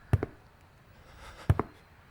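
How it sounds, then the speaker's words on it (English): Two pairs of heavy, muffled footsteps in the horror video game Paralyzis, a couple of quick thuds, then a pause, then two more, against a quiet backdrop. "I can hear footsteps."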